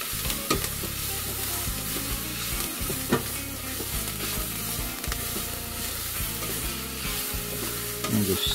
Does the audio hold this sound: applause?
no